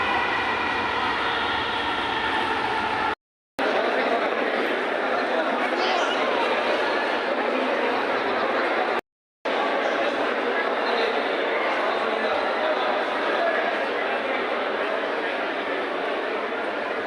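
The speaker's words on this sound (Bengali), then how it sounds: "ট্রেন যাচ্ছে মেট্রো রেল" A metro rail train runs past at a steady, loud roar for most of the stretch, with two brief cuts of silence and crowd chatter mixed into the background.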